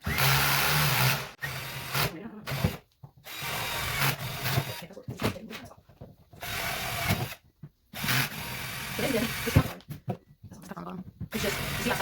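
A power drill whirs in repeated bursts while drilling holes for a worm compost bin, stopping and starting several times with short silent gaps between runs, close by.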